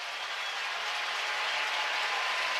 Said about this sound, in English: You hear the crowd applauding